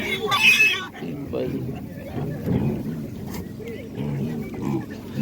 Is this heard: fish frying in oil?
no